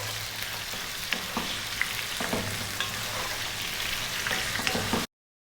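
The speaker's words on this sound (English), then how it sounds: "we're going to fry these around for around 4 minutes or so" Potatoes frying in a pan for an eggplant and potato dry curry, a steady close sizzle with scattered crackles and pops throughout, no voices.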